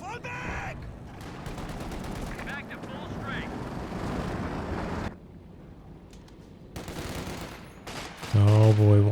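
Gunfire and artillery in a Company of Heroes 2 match, with dense, continuous machine-gun and rifle fire layered over rumbling explosions. The battle drops briefly quieter before the fire resumes and a loud final blast hits.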